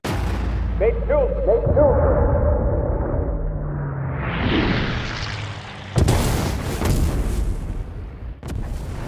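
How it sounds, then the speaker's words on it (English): In the video game Ace Combat 7, a missile blows up and downs a plane. Jet roar and radio-style voices lead into a sharp, loud explosive burst, followed by rumbling debris and smaller pops. "Mother Goose 1 has been shot down. Where'd the missile come from?"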